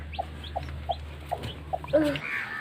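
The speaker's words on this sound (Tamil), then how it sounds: "இங்கே பாருங்க குஞ்சு குஞ்சு" A broody hen with her newly hatched chicks, the hen giving a steady series of soft, evenly spaced clucks, then brief higher chick peeps near the end, close and fairly quiet.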